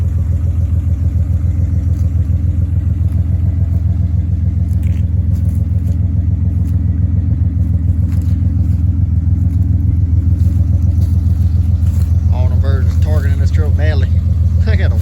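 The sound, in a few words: old car engine cold start and idling at 37F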